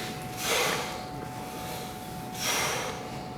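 A man breathes heavily during a weightlifting set, giving two loud, forceful breaths about two seconds apart, sharp and airy like snorts, close to the mic.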